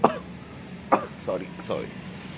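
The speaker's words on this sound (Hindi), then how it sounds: "खांसी बनती हो रही है।" Indoors, a person coughs and clears their throat in short bursts, one at the start and then a few spaced hacks, fairly faint and close.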